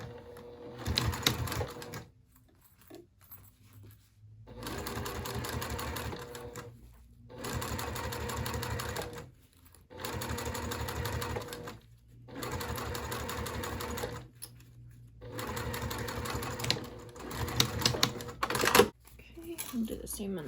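A sewing machine bastes the gusset of a small circular wristlet bag in repeated bursts of rapid stitching separated by short pauses, close and clear.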